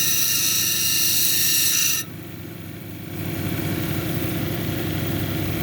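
A lapidary grinder touches up the girdle of a quartz cabochon. A steady close whir with a high rasping grind cuts off abruptly at about two seconds, then the motor hum builds back up, with no talk.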